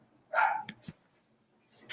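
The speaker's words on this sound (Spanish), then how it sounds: "por si se escucha el ladrido" A dog nearby lets out one short, sharp bark followed by a couple of softer yips and snuffs, with quiet gaps between them in an otherwise still room.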